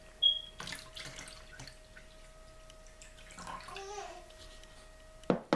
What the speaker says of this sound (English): Now we're just going to pour that water off.